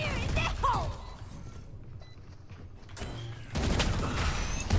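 Odin machine gun fire in Valorant, a dense burst of automatic gunfire loud at the start, then quieter game sounds before heavy firing returns toward the end.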